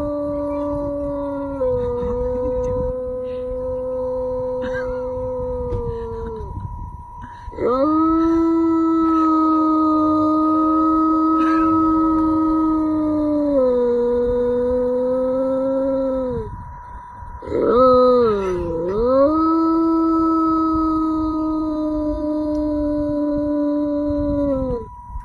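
Several dogs under anesthesia let out long, loud wavering howls close by, holding steady tones with brief breaks near seven and seventeen seconds, the pitch bending down and back up as they go.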